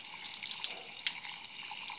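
Water from a storage tank tap runs steadily into a plastic sample bottle, a soft continuous hiss of flowing water with a couple of brief clinks, fairly quiet and heard alone.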